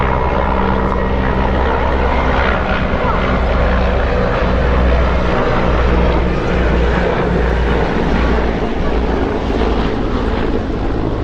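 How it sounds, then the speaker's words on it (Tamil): A loud, large helicopter drones close overhead at an air show at Marina Beach, its rotor thudding in a steady low throb that fills the whole clip. "எவ்வளோ பெரிய சாப்பர் பாரு"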